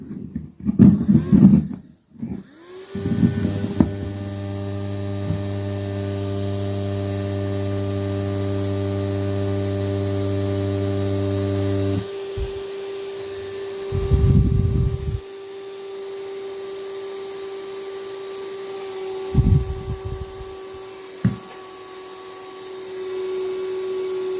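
A portable fan with a fast-draining battery switches on after a few clicks and handling noises, its motor humming steadily for several seconds before cutting out, followed by quiet gaps and more rustling.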